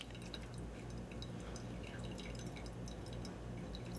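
Coffee dripping through a V60 with a drip assist, soft quick drips and trickles falling steadily into the brew below, quiet and close with no talk.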